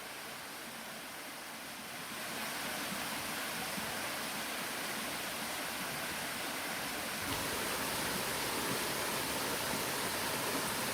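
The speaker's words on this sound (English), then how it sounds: "Right down close to the bottom of those falls now, getting the full effect of the water rushing by." Broad, steady roar of rushing water close to the bottom of the Pwll-y-Wrach waterfall, close and loud, swelling slightly partway through and continuing without pause.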